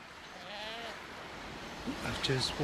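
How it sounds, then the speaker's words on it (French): Goats on an island call near a camp shelter, with a few short bleats coming late and fairly close after a stretch of quieter background noise. "les chèvres reviennent me contrarier"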